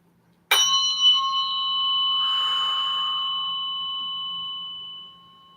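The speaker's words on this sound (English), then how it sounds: "we're going to wait until we get that consistent sound, consistent vibration that I have in the fork" A tuning fork is struck once and then rings with a pure, steady tone and a bright metallic overtone, close and clear, slowly fading over about five seconds with no talking.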